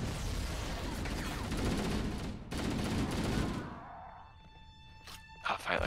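Automatic gunfire bursts loudly in Halo CE during a check for friendly fire, dense rapid shots rattling for a few seconds, then breaking off into a ringing electronic tone and a couple of sharp later hits, with a voice talking over it.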